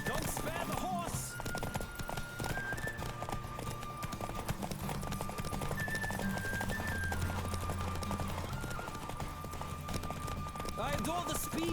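Horse galloping in The Witcher 3, a steady clip-clop of hooves running under game music and a spoken voice throughout.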